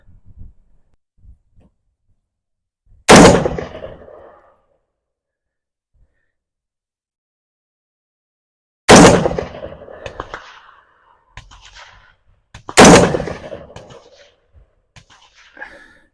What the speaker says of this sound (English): it's going to take our first shots and see how it goes